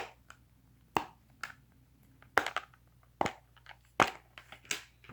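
An Among Us dimple fidget toy is pressed on its loud side, giving a series of sharp, loud pops spaced irregularly over a few seconds, with quieter clicks between them and no talking.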